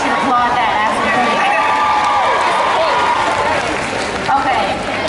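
A large crowd cheers and applauds loudly and steadily at a televised music awards show, with shouting voices and whistles blending into a dense roar.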